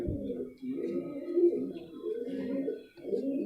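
Rampuri pigeons coo in a steady run of low, throaty calls, close and fairly soft, with a few quieter bird sounds over them.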